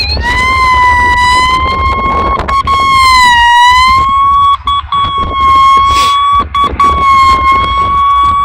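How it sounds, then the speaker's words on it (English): Schonstedt Rex utility locator giving its signal tone over a buried line, a loud, sustained electronic pitch that wavers slightly, with brief breaks and dips partway through. "you get a beeping signal when you're directly over the top of it"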